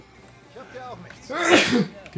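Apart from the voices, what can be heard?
sneeze in Mafia 3 video game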